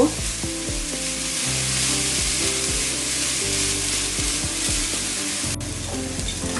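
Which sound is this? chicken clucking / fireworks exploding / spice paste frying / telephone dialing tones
spice paste frying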